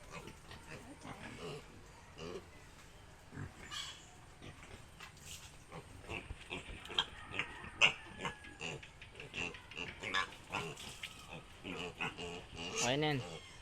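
Pigs on a farm grunt and squeal in repeated bursts against rough background noise, with some sounds close and loud.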